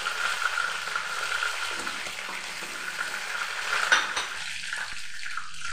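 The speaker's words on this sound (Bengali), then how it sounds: "এবার লেগ পিসগুলোকেও আরও কিছুক্ষণ একটু নাড়াচাড়া করে নিয়ে" Chicken leg pieces frying in a pan for dum chicken while being stirred, a steady moderate sizzle with soft scraping of the stirring and a small clatter near the end.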